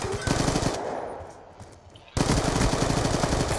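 Rapid automatic gunfire in Black Ops II on the Nuketown map, loud dense bursts filling the clip with a brief lull in the middle before the firing resumes at full intensity.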